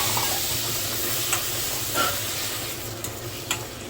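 Mashed tomato added to a hot frying pan for thakkali kotsu and stirred, a steady loud sizzle and hiss with a few scraping spoon strokes, no talk.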